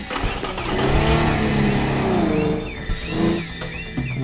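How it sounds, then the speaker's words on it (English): A sports car engine in the video game Teardown revs up and accelerates, a loud rising whine that climbs, dips and climbs again, with no talk. "That one's a sports car. Gotta go easy on that one."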